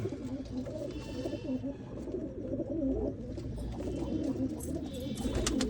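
Pigeons coo steadily in a loft where the hens have laid eggs and young birds are kept, a dense layered murmur of low throaty calls with occasional wing flutters and higher chirps, close and continuous with no talk.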